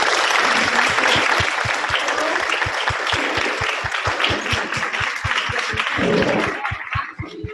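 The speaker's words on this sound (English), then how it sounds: "these panelists deserve a really big round of applause for what they've done" A crowd applauds steadily and loudly, a dense patter of many hands that holds for several seconds before thinning out at the end.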